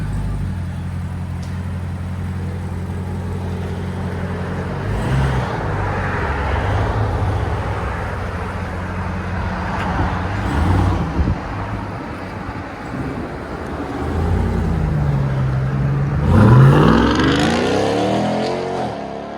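A 700hp RAM TRX with a 6.2L supercharged V8 and SLP Loudmouth exhaust idles with a deep rumble, then revs in repeated loud bursts, ending in a strong rising acceleration roar.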